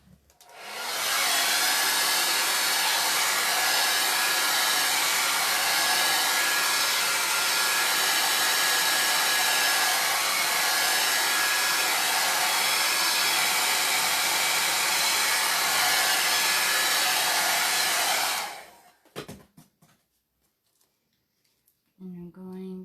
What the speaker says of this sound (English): And then I'm going to blow dry it first.